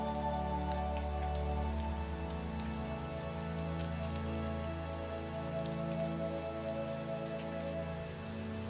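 Steady rain patters on glass, a dense continuous wash of fine drops with scattered sharper ticks, close and even throughout with no voices.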